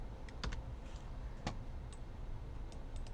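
Computer keyboard typing code for a CSS media query, with a few sharp separate key clicks at an uneven pace, close and fairly clear, and no voices.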